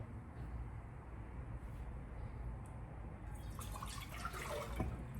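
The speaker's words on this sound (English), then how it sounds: "we'll add 2 cups of water" Water pours into a cooking pot while preparing ugali, a soft continuous trickle with a brighter splashing burst near the end, faint and close, with no voices.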